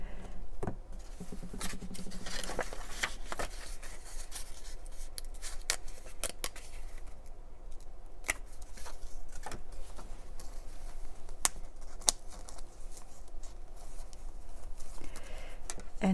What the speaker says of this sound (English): I think I'm just going to write it out.